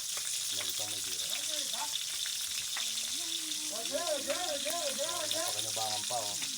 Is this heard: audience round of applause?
no